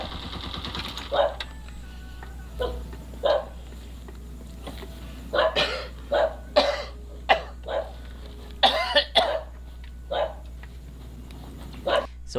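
A father in a film coughs again and again: short, sharp hacking coughs in irregular bursts, some in quick pairs, over a low steady hum.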